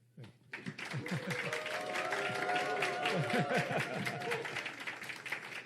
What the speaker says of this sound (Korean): 우리 회장님 격려하는 면에서 우리 박수 한번.